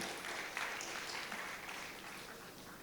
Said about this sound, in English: Let us give a big round of applause for keeping us engaged throughout the session.